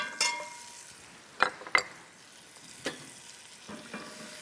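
Half a stick of butter melts in a pan with brisket drippings, a faint low sizzle under a few sharp scrapes and clinks from stirring.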